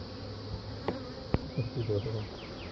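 Honeybees hum steadily in an open hive box during an inspection, a close continuous buzz with a few louder passes and faint handling bumps.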